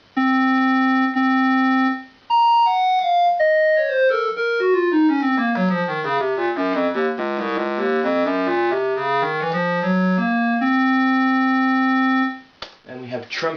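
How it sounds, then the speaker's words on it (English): A Yamaha PS-30 Portasound home keyboard plays its clarinet voice: a held reedy note, then a rising and falling run of melodic notes, ending on another sustained tone, with no talking. "Clarinet sound."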